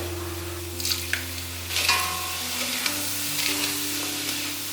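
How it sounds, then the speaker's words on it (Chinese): Vegan taro filling seasoned with vegetarian oyster sauce, sugar and salt sizzles steadily in a pan while being stir-fried, with a few soft scrapes and stirring knocks over a continuous frying hiss. "放完调味料后，就一直不断的翻炒，让所有的调味料都在食材里面，让它入味。"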